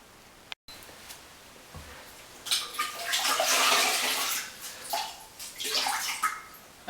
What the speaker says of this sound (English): I have a clean bucket of water, and I'm going to give the tiles another rinse